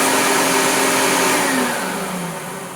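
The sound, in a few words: Hoover Junior U1426 vacuum cleaner motor running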